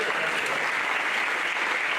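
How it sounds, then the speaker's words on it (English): A crowd claps at a sports hall of fame induction ceremony, the applause even and sustained from start to finish at moderate loudness. "go ahead and applaud. We need the applause."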